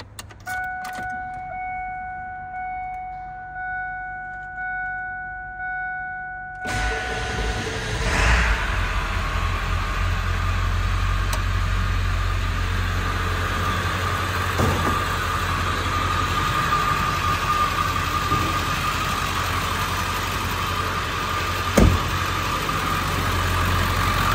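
A 2000 Ford F-350 crew cab flatbed with the 7.3L Power Stroke diesel, one-owner and all original, cranks and fires after a few quiet seconds, then settles into a steady, loud, close diesel idle with a few faint knocks and clicks.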